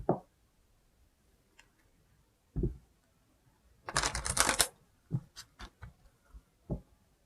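Romance angel cards being drawn from a deck: a few soft, separate card slides and taps, with one longer burst of shuffling near the middle. The sounds are close and quiet, with silence between them and no talk.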